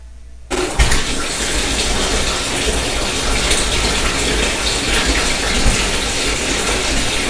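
Water gushes steadily into a bubble bath toy, a loud continuous pour that starts abruptly and runs without pause, close to the microphone with no talking.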